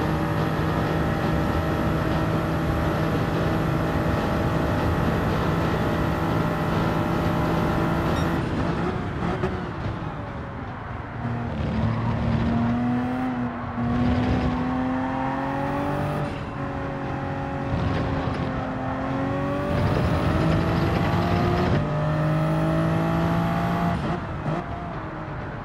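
A race car engine held at full throttle in Gran Turismo 7 at Spa, a steady high drone that dips and climbs through gear changes, with other cars whining close by.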